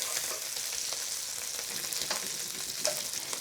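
Shrimp fry steadily in a pan of hot oil, a continuous bright crackling sizzle with a few sharper pops near the end, heard alone with no talking.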